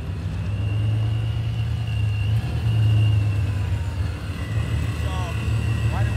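A car engine rumbles low and steady just before a burnout during an outdoor car photoshoot, holding a loud, continuous drone with faint voices in the background.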